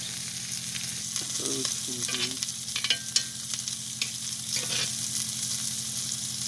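Beef tenderloin sizzles and fries in a pan with butter and purple Russian garlic, a steady close crackle with a few stirring clinks and shuffles, no talking.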